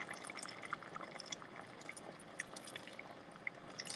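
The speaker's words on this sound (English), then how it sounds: "you're going to just add a little bit more broth" Broth poured into rice as it cooks in a pan, a faint continuous liquid trickle with small bubbling pops and drips, close up and quiet.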